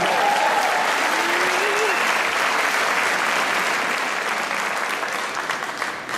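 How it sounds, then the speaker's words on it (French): A crowd of more than 2000 at a François Bayrou campaign rally in the Halle aux Grains, Toulouse, gives dense, sustained applause, loud and even throughout with a faint voice underneath at the start. "Oui, je peux vous applaudir."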